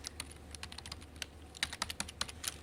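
Python code being typed on a computer keyboard: quick, uneven runs of light key clicks, close but quiet, with no one talking.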